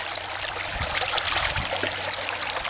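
Water rushes steadily through a gold panning sluice box at a creek, a continuous close splashing flow with small bursts of trickling.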